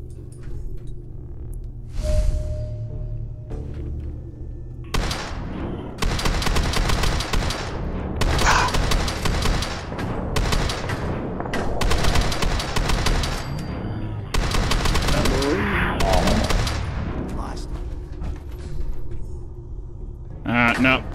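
Rifle gunfire in the video game Fallout 4, long bursts of rapid shots in several clusters over a low rumble, loud and dense, with talking over parts of it.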